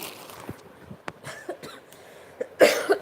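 A person coughs close to the microphone, a few scattered short coughs ending in a louder, harsher burst, with no talk in between.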